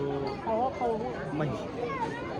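Crowd at Patoura temple chattering in a busy babble of many overlapping voices, moderately close and fairly quiet, with several individual voices standing out briefly.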